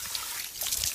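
Running drinking water at a school trickles and splashes steadily, a bright hissing flow that swells louder near the end with no talking over it.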